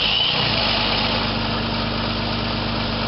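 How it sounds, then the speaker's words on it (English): A Jeep Cherokee XJ Mk1 with a bypassed immobiliser idles steadily right up close, a loud, even rumble with no voices over it. "now's the moment of truth to see if it actually starts"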